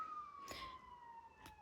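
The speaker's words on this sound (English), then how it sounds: "excuse the siren in the background, I don't know if you can hear that" An emergency vehicle siren wails faintly in the distance as a steady, slowly falling tone, heard alone with two brief soft noise bursts nearby.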